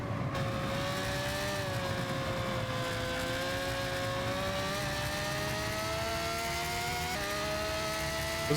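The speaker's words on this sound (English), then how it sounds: "me messing around in a Ferrari. Gran Turismo 6 career mode." A Ferrari engine in the racing game Gran Turismo 6 drones steadily throughout, with the pitch climbing and dipping slightly as it accelerates and shifts, fairly even in loudness and heard alone without talk.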